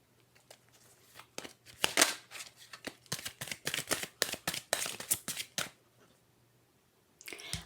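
Rapid crisp tarot card shuffling in bursts, a riffle then a run of flicking snaps, close by with no talking, ending in a brief rustle.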